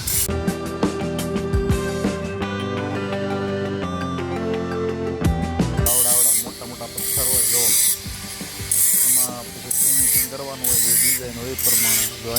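Stoneworkers carve large stone blocks with tools for a gate at a carving site in Lakhamivadi, Gadhada. A tonal, music-like mechanical passage gives way to rhythmic bursts of rasping, grinding strokes that repeat at close range, mixed with clanking.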